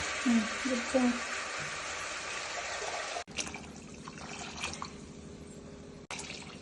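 Water is poured into a cooking pot in a home kitchen during preparation of a corn soup, splashing and trickling for several seconds. After a sharp break comes quieter dripping, and a voice can be heard faintly in the background.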